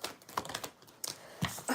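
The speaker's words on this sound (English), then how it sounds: "I feel like I can keep shuffling and shuffling and shuffling for days" Tarot cards shuffled by hand in quick, irregular riffling bursts of crisp papery flicks, close and fairly quiet, with no voice over them.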